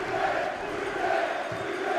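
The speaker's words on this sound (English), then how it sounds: "Rudy Scatchell takes the applause." A stadium crowd at New St Mirren Park roars and applauds after a Hearts goal in a 2012 Scottish Cup match, a steady, distant wash of cheering.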